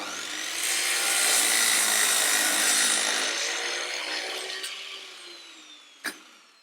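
A circular saw makes a crosswise cut through a wood board, its loud broadband whine rising as the blade bites and fading as the cut ends, followed by one short sharp knock near the end.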